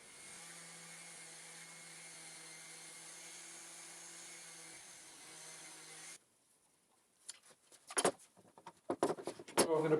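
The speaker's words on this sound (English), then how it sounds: "I'm going to go ahead and sand them as one big block." A power sander works over clamped wooden Adirondack chair arms sanded together as one block, giving a steady moderate whine for about six seconds. It then stops, followed by scattered clattering knocks of handling.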